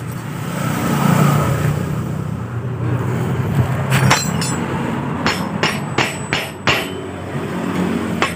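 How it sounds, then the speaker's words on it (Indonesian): A hammer strikes an impact screwdriver fitted with a blunt bit on a tight bolt of a Honda Supra motorcycle, sharp metallic knocks near the end in a quick uneven series of about six hits over a steady hum. "Kita menggunakan obeng getok saja."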